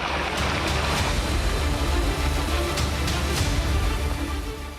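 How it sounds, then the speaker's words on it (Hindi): Strong floodwater rushing across roads after heavy rain in hilly terrain, a loud, continuous broadband roar of flowing water with no pauses, close to the microphone and heard alone without voices. "पहाड़ी इलाकों से पानी का तेज प्रवाह सड़कों पर आ रहा है"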